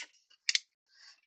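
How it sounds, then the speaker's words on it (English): Scissors snipping the flaps of a cardboard box, one short crisp cut with faint rustling before and after, quiet and close. "Maybe I can cut them off."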